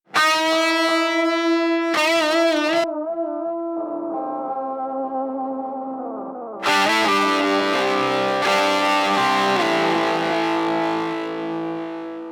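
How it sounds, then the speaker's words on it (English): A lead guitar plays through a Safari Pedals Yak Delay set for ping-pong repeats, giving sustained, slightly driven notes and bends with echoes that trail off behind each phrase. It plays alone and fills the space, with no talking. "Yak Delay is a really cool ping pong style delay."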